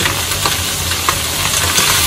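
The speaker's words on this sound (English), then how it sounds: "We're frying the cabbage here." Cabbage fries loudly in a pan for a Geechie stir fry while being turned and stirred, a dense close sizzle with scraping stir sounds and no talk.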